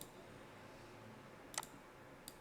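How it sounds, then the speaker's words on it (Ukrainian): A computer mouse clicks faintly, a quick pair of clicks followed by a softer single one, over a quiet room hum. "То есть сначала клацаем тут."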